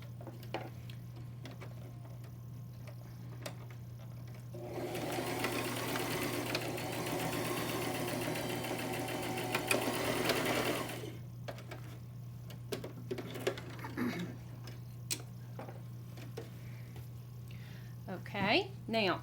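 A sewing machine stitches fabric in one continuous run of about six seconds, a fast whirring rattle that stops cleanly. Quiet handling noises and a few clicks follow, with a low steady hum underneath.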